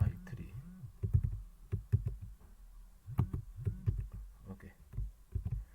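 Fingers tap a computer keyboard in quick, irregular bursts of close clicks and knocks, with short pauses between runs of keystrokes, while a voice speaks faintly underneath.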